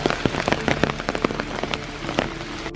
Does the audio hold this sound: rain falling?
yes